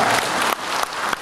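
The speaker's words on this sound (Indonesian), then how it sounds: "Tepuk tangan." Audience applause at an Indonesian environment ministry event, a dense steady clapping burst with a few sharp peaks, close and loud, lasting just over a second with no talk.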